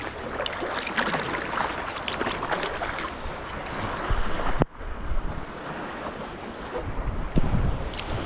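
A kayak or small boat is paddled on Lake Erie near rocks, with water sloshing and splashing close by under steady wind buffeting the microphone, plus a sharp knock partway through.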